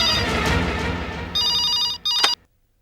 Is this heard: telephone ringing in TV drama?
yes